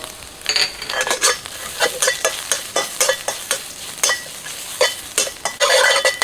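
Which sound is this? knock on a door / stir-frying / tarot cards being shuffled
stir-frying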